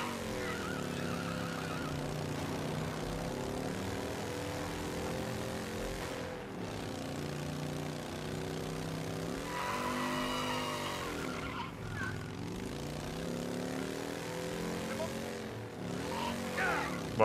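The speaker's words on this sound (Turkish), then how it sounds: "Motor sürmek daha bir garipmiş şu anda." A motorcycle is ridden in the video game Mafia: Definitive Edition, its engine droning steadily with rising and falling pitch and brief gaps as it shifts, sounding moderately loud throughout.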